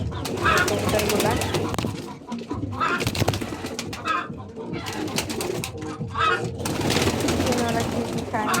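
Pigeons cooing on a rooftop, a steady low murmur of coos running through the clip with soft rustling, mixed under someone talking nearby.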